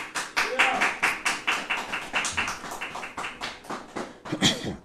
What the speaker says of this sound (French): Applaudissez le Seigneur bien fort.